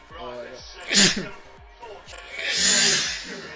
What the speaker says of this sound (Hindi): छींक आ गई